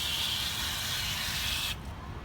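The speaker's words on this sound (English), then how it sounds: "now I'm gonna spray this wheel off" Water sprays forcefully onto a dirty Maserati rim, a loud, steady close hiss that cuts off abruptly near the end, leaving quieter background noise.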